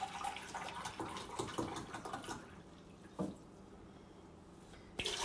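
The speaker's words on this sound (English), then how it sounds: "Now you're going to add 8 cups of the filtered water." Filtered water being poured while brewing kombucha for a first fermentation, a steady splashing trickle that fades midway, with a couple of sharp clinks or drops near the end.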